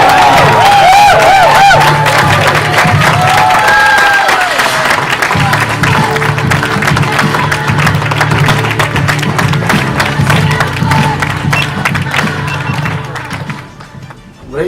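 A large audience at a family empowerment day event in 2019 claps and cheers together on cue, loud and sustained crowd noise with rhythmic clapping that fades out near the end.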